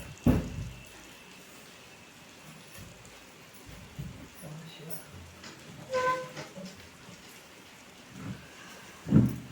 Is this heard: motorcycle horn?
no